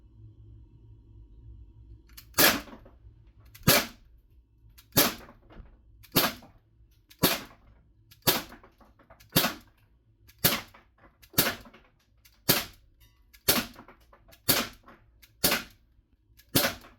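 A DUKE CO2 pepper ball launcher fires twelve sharp, evenly spaced shots about one second apart, each a loud crisp pop with a short tail over a low background hum, with no talking.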